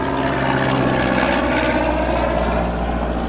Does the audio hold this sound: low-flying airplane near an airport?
yes